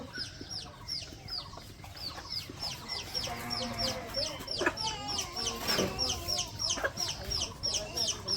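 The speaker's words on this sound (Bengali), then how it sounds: "সকালবেলায় মুরগি ছাড়ছে, মুরগিরে খাবার দিব।" Village chickens cluck and chirp repeatedly at close range while being fed rice on a morning farmyard, with brief background voices.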